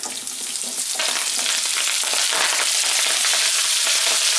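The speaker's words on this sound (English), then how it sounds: "I added about a tablespoon of olive oil, and here's my cut up Brussels sprouts. So it's heated, and I'm going to add them in." Cut Brussels sprouts dropped into a pan of hot olive oil and bacon fat, setting off a loud, dense, continuous sizzle and crackle that swells as they land and is heard close with no talking.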